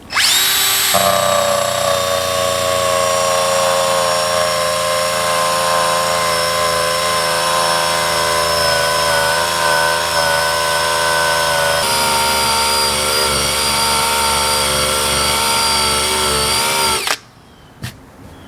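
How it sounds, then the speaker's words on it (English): A decal eraser wheel spun by a drill against RV siding to strip old vintage RV decals, a loud, steady high-pitched whine held for about seventeen seconds, dropping briefly in tone partway, then cutting off. "It's real easy to use a decal eraser tool."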